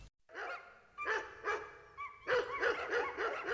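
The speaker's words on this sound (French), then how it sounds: "Des chiens." Several dogs bark in a quick run of sharp, fairly close yaps, pausing briefly and then returning in a denser burst of overlapping barks near the end, with no one speaking.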